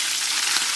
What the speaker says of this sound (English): we will add our bacon. And we'll stir it around